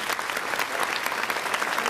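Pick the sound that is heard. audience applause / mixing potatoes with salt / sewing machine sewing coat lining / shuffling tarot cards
audience applause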